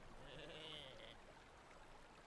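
A sheep in the video game Lumberhill gives a single short, wavering bleat early on, fairly faint against a steady background wash of game ambience.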